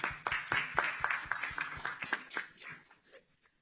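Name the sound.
audience applause for a panel speaker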